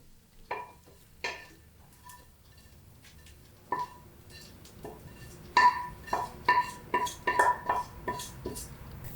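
A spoon scrapes and clinks as dry-roasted spices are transferred from a pan onto a plate, with scattered sharp metallic taps that grow more frequent and louder toward the end.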